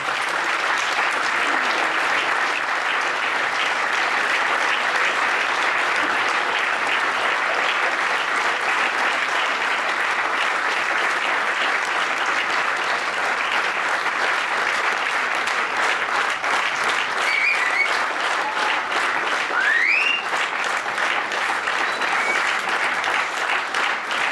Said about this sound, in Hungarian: kapjon egy nagy tapsot